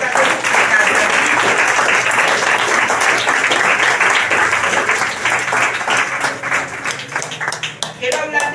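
A church congregation breaks into loud applause during a sermon, dense clapping that thins into scattered claps toward the end, with voices heard over it.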